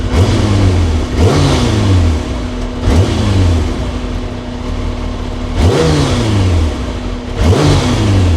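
Kawasaki ZZR 1100 motorcycle engine running close and loud, blipped repeatedly in sharp revs that rise and fall every second or two over a steady idle.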